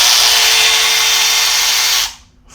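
A Milwaukee 2566-22 high-speed cordless ratchet runs with a steady, loud whine for about two seconds, then cuts off abruptly into near silence.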